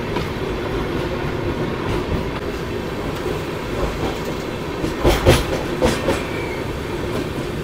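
Train 12839 Chennai Mail runs past Marripalem station with a steady close rumble of wheels and carriage noise, and clickety-clack joints and metallic clatter sharpen around the middle of the passage.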